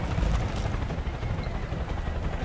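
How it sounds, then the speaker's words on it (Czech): A helicopter in the co-op game Far Cry Arcade gives off a continuous low, churning rotor rumble. The sound is steady and fairly faint, heard through game audio without talk. "Kde je tam vrtulník?"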